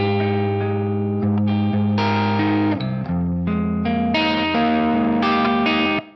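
Electric guitar played through the Mercuriall Ampbox amp simulator, heavily distorted with effects, strumming sustained chords that change every second or so, loud and close with no talk.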